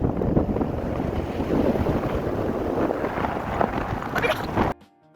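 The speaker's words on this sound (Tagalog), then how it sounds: "Akala mo ko tatangayin sa lakas ng hangin." Strong wind roars and buffets the microphone at a steady, loud level while riding in the back of a pickup truck speeding toward a bay resort, before cutting off sharply near the end.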